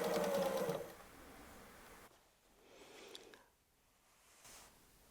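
A sewing machine stitching during free-motion quilting on a fabric pot holder gives a loud, close burst of rapid needle hum at the start, then drops to quieter mechanical whirring and soft fabric handling.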